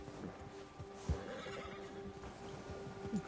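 A horse in Red Dead Redemption II whinnies and snorts close by, with soft clip-clop hoof thuds and a steady background wash underneath.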